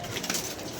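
Pigeons coo briefly and softly amid wind, a short low murmur with faint background noise.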